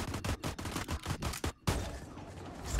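Rapid bursts of gunfire from a hard-recoiling gun in the VR shooter Skyfront VR, fired in quick stuttering volleys for over a second. A steadier roar of noise continues after the shooting stops.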